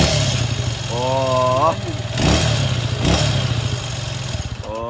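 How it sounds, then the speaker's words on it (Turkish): Worn-out CG motorcycle engine idling with a clattering valve noise, then revving sharply in short bursts close by, while someone speaks briefly over it. "Kulaklarınız sibop sesi duysun"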